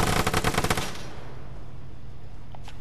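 Rapid gunfire bursts in the video game Vigor, a quick string of loud close shots lasting about a second, then a quiet tail with a couple of faint distant clicks.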